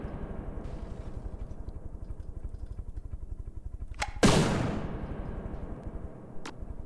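A cannon firing in the naval combat game From the Depths: one sharp, loud boom that decays into a rumbling tail, heard over a steady low engine drone, with a fainter click a couple of seconds later.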